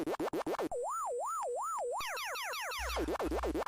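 Warbling electronic siren from an unauthorized Pac-Man sequel arcade game, looping in a steady wavering whine, then shifting to rapid sweeping chirps and blips among other game sound effects, loud and continuous.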